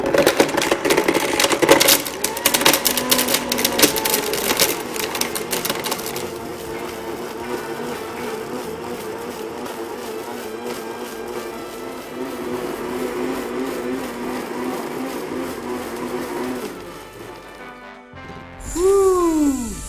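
A blender whirs through a smoothie with a steady motor drone and rattling contents, louder and clattering at first, then settling into an even hum before cutting off, with no talk over it.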